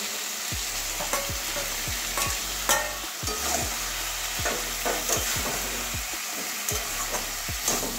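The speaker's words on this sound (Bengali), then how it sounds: "এবারে মশলা মাখানো ঝিঙেটা দিয়ে দিচ্ছি।" Spiced ridge gourd stir-fries in a hot pan for a prawn curry, a loud continuous sizzle broken by repeated scraping strokes of a spatula at a steady, unhurried rhythm.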